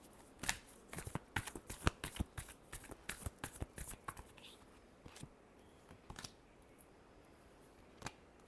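Tarot cards being shuffled by hand, a quick series of crisp riffling snaps and flutters in bursts, close and fairly quiet, with a few isolated taps trailing off at the end.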